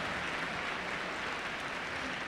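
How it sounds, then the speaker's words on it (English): A hall audience at a state speech finals gives a steady round of applause, faint and distant, with an even wash of clapping throughout. "Please, a great big round of applause for all of their help."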